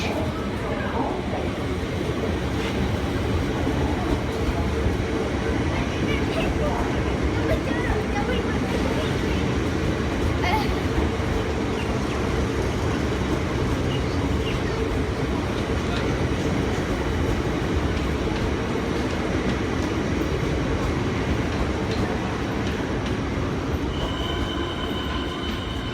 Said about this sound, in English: Here we have a Siemens train not in service, passing through Caulfield station on platform 1